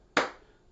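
One sharp hand clap during a brain exercise class, a single crisp close-up slap that decays quickly into quiet.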